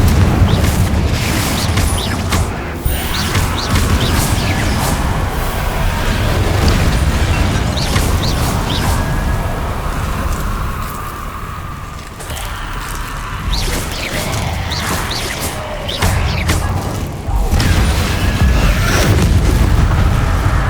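Repeated Confringo blasting-spell explosions in Hogwarts Legacy, a dense series of loud booms and crackling bursts layered over a constant roaring din for about twenty seconds.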